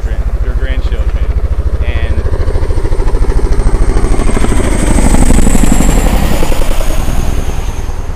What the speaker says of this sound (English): Silence as the helicopter goes by. I think it's really close.